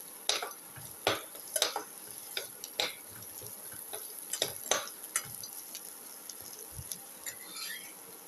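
Food sautés with salt in a pan for ginger shallot rice soup, with faint sizzling under a series of sharp utensil clicks and scrapes at irregular intervals, close and quiet.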